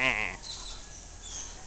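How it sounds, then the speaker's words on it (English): A little goat on a yard gives one short, close, nasal bleat, followed by quiet outdoor ambience. "Little goats, they go bleh."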